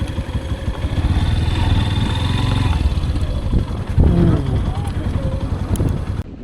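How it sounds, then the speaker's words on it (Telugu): Strong wind buffets the microphone in a continuous low roar, gusting unevenly throughout with a few faint clicks and knocks. "విండ్ అయితే చాలా గట్టిగా ఉంది"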